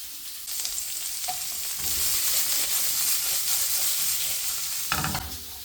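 Chicken, peppers and broccoli stir frying in a pan, loud steady sizzling and hissing with stirring scrapes, a brief surge as more vegetables drop in near the end.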